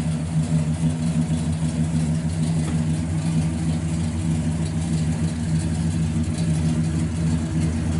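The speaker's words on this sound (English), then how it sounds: "Got a nice dual exhaust out the back. Sounds real good." A 1967 Pontiac GTO engine rumbles steadily through its dual exhaust with a deep, throaty note, holding a constant low drone throughout without sharp revs.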